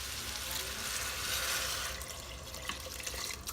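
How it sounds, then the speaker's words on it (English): Water pouring into an Instant Pot holding black-eyed beans, a steady splashing stream that runs on for several seconds. "Now you want to add some water."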